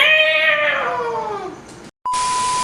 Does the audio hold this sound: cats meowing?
yes